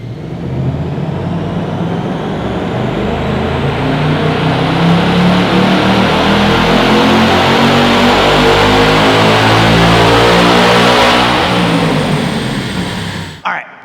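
Ford Mustang S650 fitted with a Steeda cold air intake revving hard on a dyno, a loud sustained engine roar climbing steadily in pitch through the pull before cutting off abruptly at the end.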